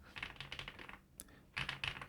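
Fingers type on a mechanical keyboard with light yellow switches, giving quick, quiet clusters of clacking keystrokes with a short pause in the middle.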